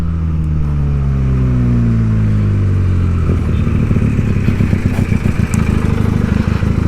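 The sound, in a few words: Benelli TNT 300 motorcycle riding in third gear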